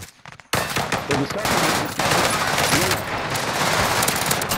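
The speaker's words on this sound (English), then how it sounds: "He's still shooting." Sustained automatic gunfire roars through a shooter game, dense rapid bursts rattling continuously and loud after a brief quiet start, with overlapping shots from several weapons.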